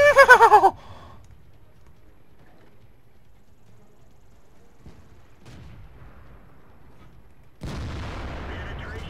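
A single 120mm tank cannon shot in World of Tanks, with a heavy blast opening and a second rumbling report near the end, loud and close, separated by a low quiet stretch.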